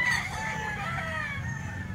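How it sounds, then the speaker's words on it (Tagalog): Chickens and roosters cluck and crow at a Wednesday poultry market at the Grotto in San Jose del Monte, Bulacan, a dense, continuous chorus of fowl close by. "Manok dito sa Grotto"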